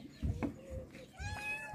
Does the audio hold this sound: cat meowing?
yes